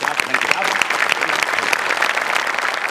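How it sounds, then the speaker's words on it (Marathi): A studio audience at a Marathi comedy show applauds the performers with loud, continuous clapping, packed with quick, crisp hand strikes throughout. "त्याकरता तुमच्याकडे टाळ्या"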